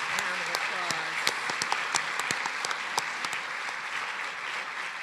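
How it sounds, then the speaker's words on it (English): An audience applauds a guest named Adam at the close of an alumni talk, steady dense clapping lasting throughout at a moderate distance, with a few sharper individual claps standing out and a voice briefly heard beneath. "Let's give Adam a great round of applause."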